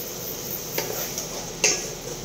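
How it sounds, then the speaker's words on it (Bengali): Ghugni sautéed in a pan makes a soft, continuous sizzle broken by a couple of scraping stir strokes, the second one louder, close by and with no voices. "আরও 2 মিনিটের মতন এটাকে ভালো করে কষিয়ে নেব"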